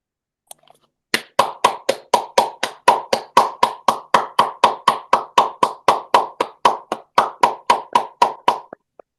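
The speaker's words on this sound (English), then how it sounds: "please turn on your microphones and let your applause become the echo of their bravery, their voices, and their unbroken resistance" Online meeting participants applaud at a human rights campaign gathering, a steady run of about thirty crisp, evenly spaced hand claps from a single nearby source, loud and unaccompanied by talk.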